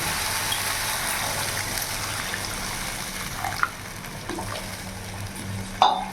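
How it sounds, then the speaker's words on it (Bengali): Water poured into spice paste frying with a little sugar for a rohu fish curry, a close hissing sizzle with splashy bursts and a few clanks, rising again sharply near the end. "এবার এর মধ্যে আমি জল দিয়ে দেবো"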